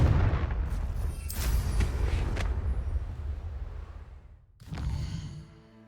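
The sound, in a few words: Confringo fire-blast spell exploding in Hogwarts Legacy video game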